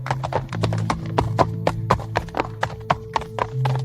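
A soldier rides a white horse closer, its hooves clip-clopping in a steady, close, brisk rhythm with a low sustained drone underneath.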